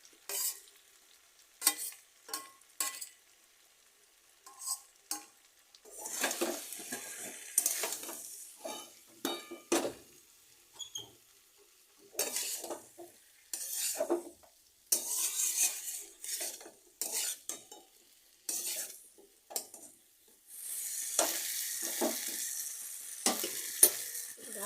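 Onions and potatoes are stir-fried together in a pan for a Bengali loitta dry fish curry, with bursts of sizzling and repeated clanks and scrapes of a metal utensil against the pan, separated by short quiet gaps.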